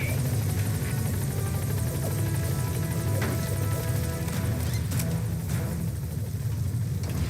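In the Metal Gear Solid V game, a support helicopter comes in to the landing zone with a loud, steady rotor thump and a whining engine drone that stay constant throughout, with a few faint clanks on top.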